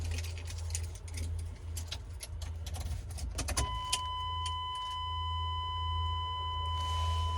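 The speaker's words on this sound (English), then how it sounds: "okay, CD player cut on." A CD player head unit in a 1985 Chevy S10 turns on: after ticking and clicking at the dash over a low hum, a steady electronic tone starts and holds to the end.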